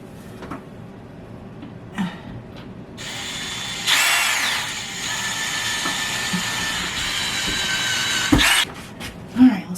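A power drill driving toggle bolts into a bathroom wall during a powder room refurbishment, a loud steady whine for several seconds after a few scattered taps and knocks, close by.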